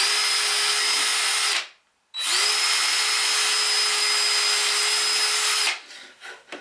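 An electric drill bores small holes through a wood-turned openwork vase in two loud, steady runs of a few seconds each, with a brief pause between them, then winds down into rougher scraping sounds at the end.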